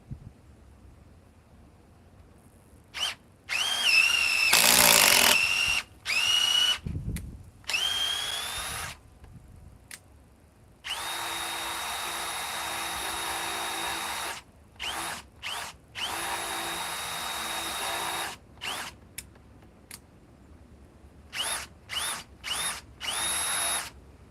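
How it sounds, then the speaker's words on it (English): A Bosch GDR 18V cordless impact driver runs in a series of bursts, some short and some sustained for several seconds, with a high whine and rattling hammering, separated by silent pauses. "Let's run the Bosch GDR 18B 1950C."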